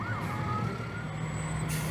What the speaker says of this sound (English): the more modernized fire truck is following behind of the New Dublin Fire Department